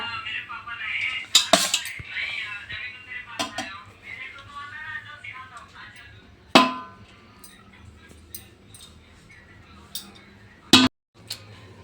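Rice and chicken being layered into a biryani pot, with spoon and utensil clinks, scrapes and a few sharp metallic knocks against the pot while a person talks.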